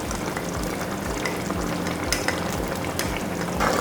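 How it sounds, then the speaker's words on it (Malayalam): Vegetable kurma with green peas bubbles in a pot while a spoon stirs it, giving a steady close sizzle with repeated soft scraping strokes, no voices. "നന്നായി ഒന്ന് മിക്സ് ചെയ്ത് കൊടുക്കാം."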